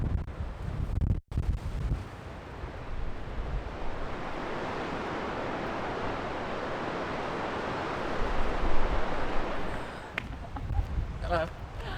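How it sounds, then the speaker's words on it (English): Strong coastal wind on the Oregon shore buffets the microphone as a steady, loud roar with surf-like washing underneath, briefly dropping out near the start and swelling again later. "It's wind here, huh?"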